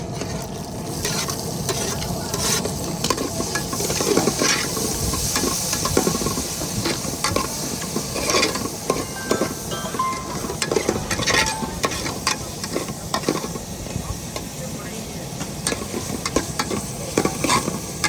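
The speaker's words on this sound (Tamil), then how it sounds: "தக்காளி வெங்காயம் நல்லா வதங்கி கேட்கல." Onion, curry leaves and tomato stir-fried in a pan for a dried-fish curry, with a steady close sizzle and repeated scraping stirs throughout, no talking.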